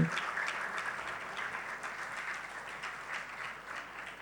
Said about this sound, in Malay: Ayuh berikan tepukan yang paling gemuruh untuk pasukan ini.